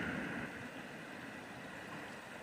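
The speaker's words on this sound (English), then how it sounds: "it's really nice being next to the running water" The South Platte River runs steadily nearby, a soft, continuous rush of flowing water with no talk over it.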